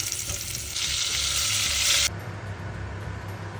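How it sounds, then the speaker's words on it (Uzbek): Salted meat frying in olive oil, a loud close sizzle for about two seconds, then dropping abruptly to a quieter, steady crackle of the pan. "go'shtlarimizni tuzlab, olivkoviy yog'da har ikki tarafini qizartirib, qovurib olamiz"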